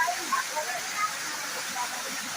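A waterfall beside a temple pours in a steady, broad hiss, with a voice speaking over the rushing water.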